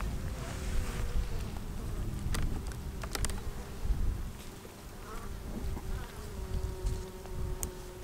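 Dense, continuous buzzing of many honey bees in an open beehive on a mild February day, a close, steady hum with occasional sharper clicks and individual bees droning past.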